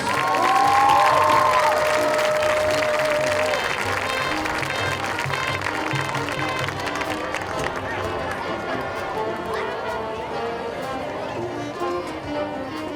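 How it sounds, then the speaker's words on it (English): Crowd at a high school football homecoming halftime claps and cheers in an open stadium, a broad, distant roar of applause and voices with whistles early on, easing to a lower murmur of chatter and scattered clapping. "give a big round of applause and welcome back last year's homecoming king and queen"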